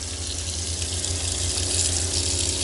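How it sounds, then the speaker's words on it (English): Hot water gushes steadily from an RV tap, a loud continuous hiss and splash with no pauses, close by. "Yeah, that's some serious hot water coming out there."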